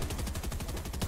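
Rapid automatic assault rifle fire in a competitive battle royale video game, a dense burst of evenly spaced shots in quick succession for about a second.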